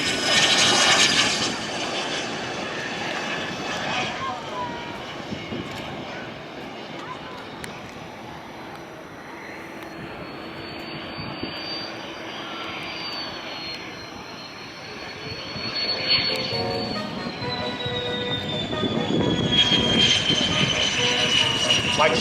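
A jet aircraft, an Albatros trainer, flies past at an airshow, its engine roaring steadily with a whine that rises and falls as it passes, while a commentator talks over it.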